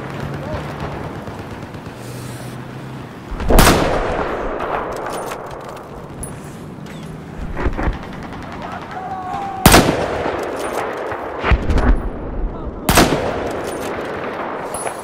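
Bursts of machine-gun fire and loud gunshots crack through a Battlefield 4 battle, with sharp reports separated by stretches of rumbling background combat noise and a voice speaking over it.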